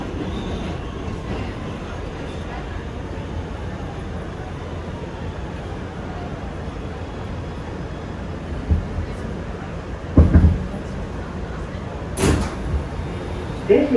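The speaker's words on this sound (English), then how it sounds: "This is a Brooklyn-bound C local train." An NYC subway Kawasaki R211T open-gangway C local train sits at a station, a steady rumble and hum with clunks and a sharp door thud and chime-like bursts near the end.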